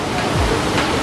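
A waterfall in the mountains of Taiwan roars as a steady, dense wash of broadband rushing water, loud and continuous throughout with no pauses.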